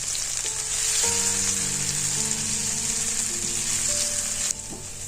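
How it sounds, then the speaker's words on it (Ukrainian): Potato pieces sizzle steadily in hot oil, a loud bright hiss running throughout with faint tonal ringing underneath. "Треба гарно, дуже гарно обсмажити шматочки картоплі до гарного золотавого кольору."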